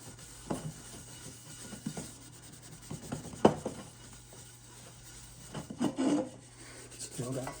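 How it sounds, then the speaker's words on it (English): Heavily tarnished copper is rubbed and polished with a lemon, giving faint, soft scraping and rasping strokes at an irregular pace, close by and quiet, with a few slightly louder rubs. "One lemon will polish a whole lot of copper."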